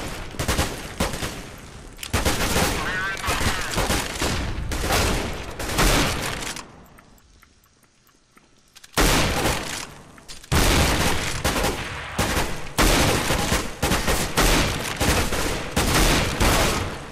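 Rapid bursts of gunfire from a Counter-Strike: Global Offensive co-op match, loud dense volleys and automatic sprays filling most of the stretch, with a brief quieter lull in the middle before the shooting resumes.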